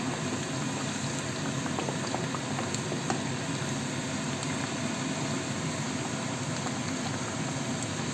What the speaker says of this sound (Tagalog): Igisa lang po natin siya ng konti. Iprito lang po natin ng konti.